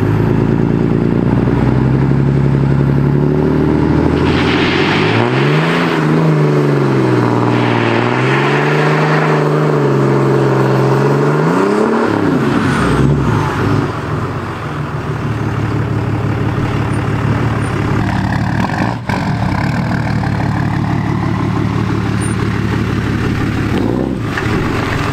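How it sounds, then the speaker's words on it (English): A 2018 truck with a Cummins 6.7 diesel roars loudly through a burnout, a heavy engine drone rising and falling in surges over the first half, then settling into a rougher, steadier rumble under gusty outdoor wind. "but we're gonna go and try to do a burnout in the truck."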